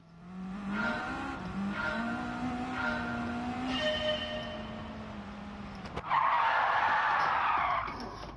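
Subaru WRX rally car in Gran Turismo 7, engine note droning and shifting through gears with squealing tyres, ending in a loud skid as the car slides.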